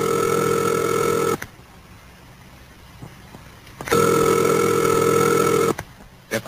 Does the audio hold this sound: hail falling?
no